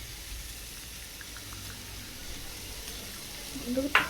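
Vegetables for khichuri sauté with spices in a pan, a soft steady sizzle with faint stirring that ends in a brief louder scrape.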